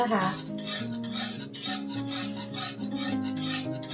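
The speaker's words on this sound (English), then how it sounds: "I'm going to slowly whisk in my grits" A whisk scrapes rhythmically around a pot as grits are whisked into boiling water, in quick repeated strokes, roughly two per second, close and clear, with faint tonal hum beneath.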